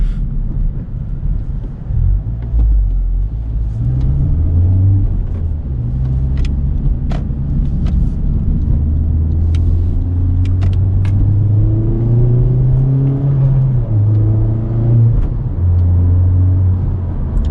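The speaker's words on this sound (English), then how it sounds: "And a bit of turbo sound." Loud, steady Honda Civic Type R turbo engine drone from inside the cabin, rising and falling in pitch as it accelerates, with faint turbo whooshing and clicks.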